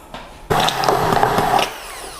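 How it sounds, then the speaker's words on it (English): A stick blender whirs in a saucepan of pavlova mousse in one short burst of just over a second, close and fairly loud, with no talking. "I'm going to use my stick blender, mix it in there all at once."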